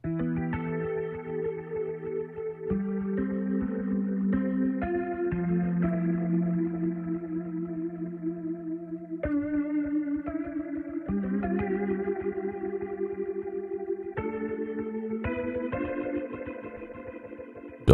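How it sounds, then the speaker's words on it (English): A Native Instruments Velvet Bloom organ plays sustained chords with modulation-wheel vibrato, a steady warm tone shifting through several chord changes, close and fairly loud with no voices. "I'm using the modeler wheel to give that vibrato sound."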